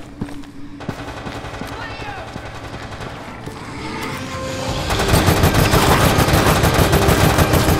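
Heavy machine gun fire in Resident Evil: Operation Raccoon City, a co-op game mission near a Gothic-styled City Hall: dense, rapid bursts that start under chatter and swell into a loud, continuous barrage of overlapping shots in the final seconds.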